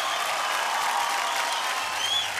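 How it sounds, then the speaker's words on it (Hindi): Audience applause fills a large hall at the 2023 IIFA award show in Dubai, a steady, dense wash of clapping heard from a distance and holding evenly throughout. "जोरदार ताली हो जाए कार्तिक आर्यन के लिए।"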